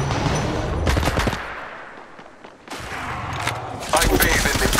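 Rapid bursts of automatic weapon fire rattle in an Apex Legends match, loud and close, in two clusters separated by a brief lull, with game sounds and voices mixed in.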